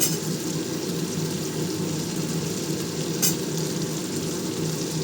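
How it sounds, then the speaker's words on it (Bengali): Malabar spinach stalks sizzle in hot oil in a pan, a steady close crackle with a brief sharper burst of spattering midway. "এবার পুঁই ডাঁটাগুলো দিয়ে দিচ্ছি।"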